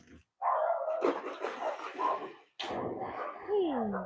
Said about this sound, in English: The next door neighbour's dogs are having a fit